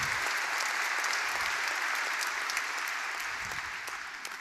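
Sustained audience applause honoring teachers, a dense, steady clapping that fills the room and fades slightly toward the end, with no voices over it.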